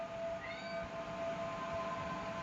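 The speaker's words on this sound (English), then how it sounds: "A cat?" A cat meows in a drawn-out, wavering cry over a steady background hum, close and moderately loud, with no talk.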